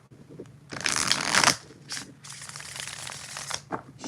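Tarot cards are shuffled in two bursts of dry, crisp riffling, the first longer and louder, the second softer and more drawn out, close up with no talk.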